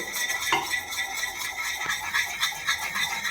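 A spoon stirring gram flour into cooked spinach in a pot, soft repeated scraping and light metallic clinks with an even rhythm, close and moderately quiet, no voices.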